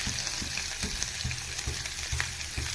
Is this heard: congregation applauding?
no